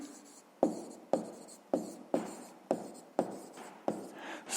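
Handwriting during a sixth-grade maths exercise makes about eight evenly spaced, close scratchy pen strokes, each starting with a crisp tap and then fading, with no voice over them.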